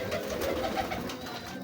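Teddy pigeons on a Lahore rooftop loft coo in a low, continuous rumble, close and steady with no voices.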